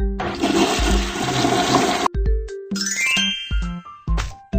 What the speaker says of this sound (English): Flush the toilet after using the bathroom.